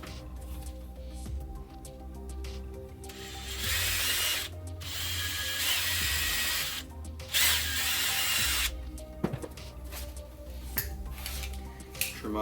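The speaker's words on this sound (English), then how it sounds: "Next step is to take this and to drill a hole" A power drill whines in loud bursts as it bores a hole in a Tusken Raider mask face plate, with quieter handling and ratcheting clicks between runs close by.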